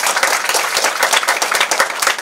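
An audience applauds at a church ministry honour ceremony, a dense, loud burst of many hands clapping together, close-up and continuous for a couple of seconds, with no speech over it.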